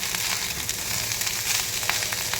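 Leftover rice frying with chili, onion and egg in a hot pan gives a steady, close sizzle with a dense crackle that holds throughout, with no voices.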